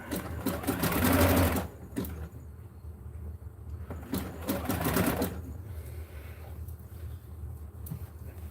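A sewing machine stitches slippery wrestling singlet fabric in two loud, fast whirring bursts separated by quieter pauses, close up with faint handling noise between runs.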